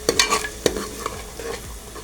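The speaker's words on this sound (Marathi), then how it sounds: "कांदा खोबऱ्याचं वाटण घालायचं तर तेलावर चांगलं असं परतवून घ्यायचं" Onion and coconut masala paste being sautéed in hot oil for a Maharashtrian chicken rassa, with close scraping stir strokes and a soft sizzle underneath, no talk.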